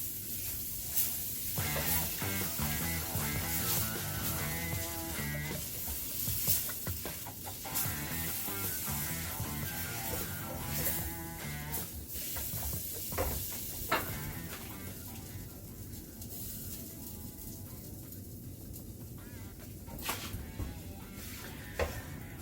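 A spoon stirs dark roux for gumbo in a pot, scraping and sizzling softly for a long stretch with occasional clinks, sitting under a faint background layer with no talking.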